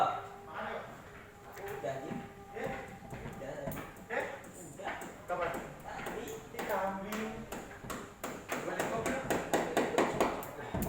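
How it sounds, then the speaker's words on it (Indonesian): Hammer blows ring out in the background of a workshop where a single-phase transformer is being demonstrated, repeated irregular metallic taps that grow quicker and denser toward the end, under steady nearby talking. "Mohon maaf banyak suara palu ya."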